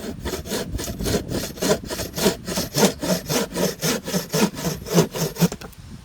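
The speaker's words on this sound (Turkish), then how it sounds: "ahşabı işte tahtayı keselim" A hand saw cuts through wood in steady back-and-forth strokes, about two per second, rasping loudly and close, stopping at the end.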